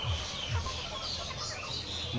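Layer chickens, 78-day pullets at a poultry farm, cluck in a short burst of overlapping calls from a flock at moderate distance.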